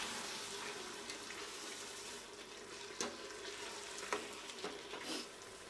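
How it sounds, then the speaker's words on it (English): Chicken gizzards simmer in sauce in a pan on low heat, giving a steady soft bubbling sizzle with a few faint clicks and knocks, fairly quiet and close. "Now you want to lower the heat and leave the gizzards to cook in the sauce"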